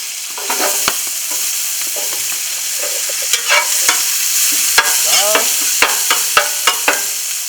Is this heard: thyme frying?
yes